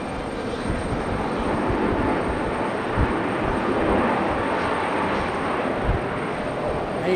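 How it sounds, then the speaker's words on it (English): A Frontier Airlines plane landing at Raleigh-Durham airport, its engines and airflow making a loud sustained rumbling roar with slight surges, fairly close and continuous. "Big correction there for Frontier. Nice landing either way."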